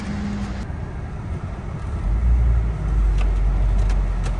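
Car driven slowly and manoeuvred into position, a close low engine rumble that deepens and grows louder partway through, with no voices.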